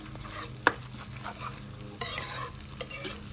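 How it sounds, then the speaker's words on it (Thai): Thai curry paste being stir-fried in a pan for a pork belly and long bean dish, giving a steady close sizzle broken by scraping strokes of the utensil and a few sharp clinks against the pan. "เราจะคั่วให้พริกแกงหอมก่อนนะครับ"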